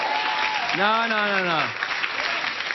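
A studio audience at a late-night comedy monologue applauds in a broad wash of clapping beneath a man's drawn-out spoken reply.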